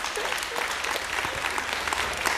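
Telethon studio audience for a children's hospital clapping in a full, steady burst of applause, a thick wash of hand claps lasting a couple of seconds with no voices on top.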